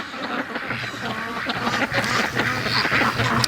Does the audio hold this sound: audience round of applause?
no